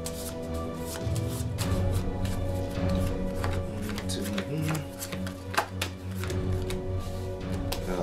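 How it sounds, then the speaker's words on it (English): Cards from the Tiny Epic Defenders board game are shuffled close by, making a quick run of soft riffling flicks and taps over about eight seconds. There is no talking over it. "Shuffle these up."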